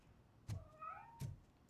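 Cat in the video game RoboCop: Rogue City, a faint, brief meow in a quiet room, set between two soft thumps.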